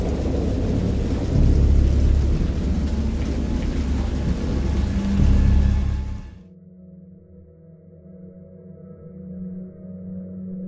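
Heavy rain and rumbling thunder from a storm sound effect in the PC game Dagon roar loudly and steadily for about six seconds, then cut off abruptly to a much quieter, low humming ambience.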